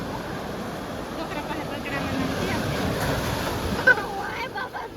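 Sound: sea waves on the shore at night

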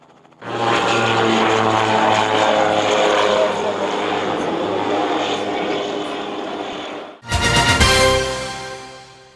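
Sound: propeller sport airplane flying

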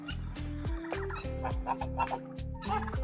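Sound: domestic poultry calling

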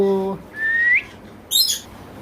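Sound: male Alexandrine parakeet calling

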